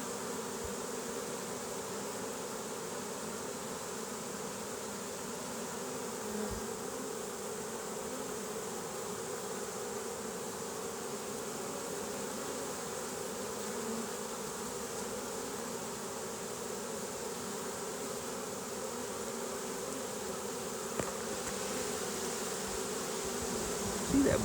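A swarm of honey bees buzzes steadily around a catch box outdoors, a dense, continuous insect hum that holds at an even level throughout without speech.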